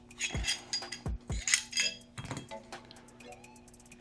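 Metal parts of a Canik pistol clink and clack as the slide and barrel are taken apart for oiling, several sharp close knocks early on, then quieter light rattles.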